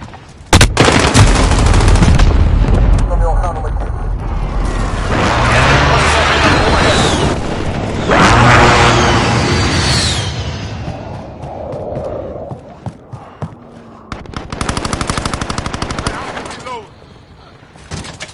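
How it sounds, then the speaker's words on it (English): Heavy bursts of gunfire and booming blasts from an enemy precision airstrike in a PS4 shooter game, loud and dense at the start, fading mid-clip, then surging again near the end, with a voice talking at times. "Enemy precision airstrike."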